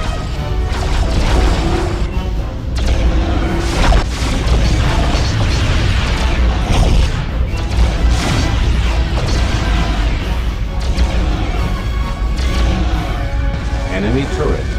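Crashing, booming blasts of an enemy turret being destroyed in the PS2 space strategy game Star Trek: Conquest, loud and continuous with mechanical clatter, under a talking voice.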